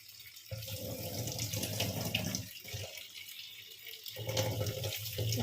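Tap water runs over masoor dal (red lentils) being washed, a steady close splashing stream that pauses briefly twice before resuming, fairly quiet overall.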